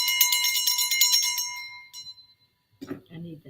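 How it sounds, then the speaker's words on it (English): A small hand bell rings in a quick run of bright metallic dings for about a second and a half, then fades away before a person begins talking. "I need that bell."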